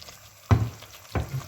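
Fried okra is stirred into simmering curry for vendakkai kulambu, with two distinct scraping stirs over a soft, low sizzle.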